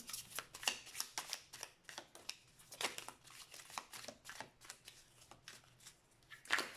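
Oracle cards shuffled for a reading, a steady run of soft riffling and slapping bursts up close, repeating in a quick uneven rhythm with no talking.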